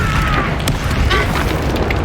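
A Confringo blasting spell explodes in Hogwarts Legacy, a dense booming roar that fills the whole stretch, loud and continuous with a few sharper cracks on top.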